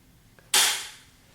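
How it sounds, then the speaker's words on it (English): A Remington 700 bolt-action rifle dry-fires on an empty chamber, its firing pin snapping forward in one sharp, close metallic click that decays quickly in a quiet room. "as you can see, it fired. See how the firing pin is decocked."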